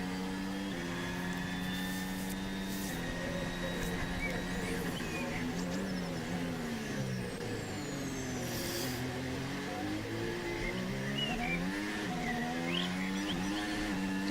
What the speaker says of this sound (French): Ah, ça patine beaucoup la voiture ultra dure.